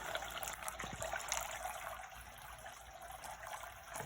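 Water from a kitchen faucet trickles and splashes down a tall DIY cascading bird fountain, a steady close patter of falling drops with no talking.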